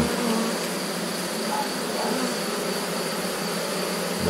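Honeybees buzzing during an inspection of a Miniplus hive division, a dense steady hum of many bees close by, continuous and fairly loud throughout.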